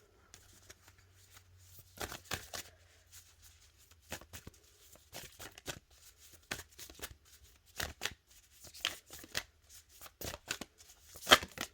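Tarot cards are shuffled by hand during a card reading, giving a series of short papery riffles and flicks in uneven bursts. The bursts are close and fairly quiet, with soft pauses between them and no talking.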